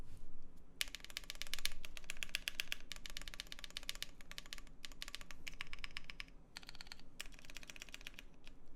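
Fast, continuous typing on a Bakeneko mechanical keyboard fitted with Durock L7 switches: dense clacky keystrokes with a few short pauses, close and fairly quiet, no talking.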